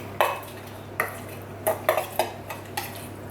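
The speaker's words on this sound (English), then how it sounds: "I'm just going to give that a mix now" Chopped prawns mixed with garlic, ginger, spring onion and soy sauce in a bowl, a series of distinct clinks and scrapes of a utensil against the dish, close and fairly crisp, no speech.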